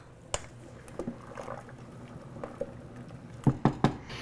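Penne being stirred in a pot of boiling salted water: a soft, steady bubbling bed with scattered light knocks, then a few sharper clacks close together near the end.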